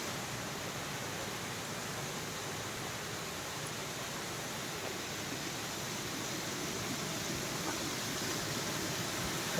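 Steady, broadband rush of water from the Gadad waterfall in the Sahyadri hills, continuous and fairly distant, with no voices over it.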